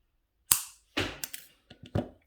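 A few sharp snips of cutters trimming jewelry wire for a pendant, one crisp clip followed by smaller clicks and another cut, close and alone in a quiet room.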